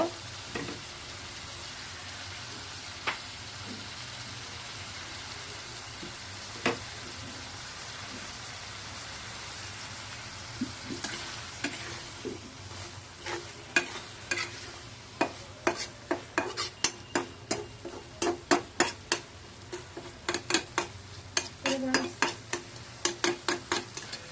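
Pangas fish roe frying in a pan with coriander leaves, a steady close sizzle broken by scattered scrapes that build into a quick run of stirring strokes near the end, with no talk.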